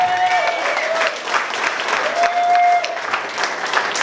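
Wedding guests applaud the newlyweds at an Armenian wedding celebration, a steady, close wash of clapping with occasional whistles cutting through, sustained for the whole stretch.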